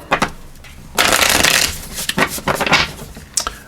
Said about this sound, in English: But we'll give these shuffles and see what else they want to come in here. Let's just do the shuffling first here.